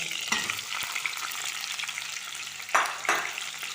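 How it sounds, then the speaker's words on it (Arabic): Chopped onion fries in a pan of hot oil for a turnip soup, giving a steady, close sizzle with a couple of louder stirring scrapes and no talking. "راني نخلي البصل يتقلى يدبل شويه"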